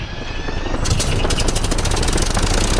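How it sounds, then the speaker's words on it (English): A Cessna 172 engine in the video game Flight Unlimited starts up with a rising whine, then catches into a loud, rapid propeller chop that settles into a steady throbbing idle. "Engine started just fine."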